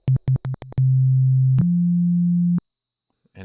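A plain default tone from the ES2 software synthesizer in Logic Pro X plays several short staccato notes, then a long sustained note that steps slightly higher before cutting off into silence.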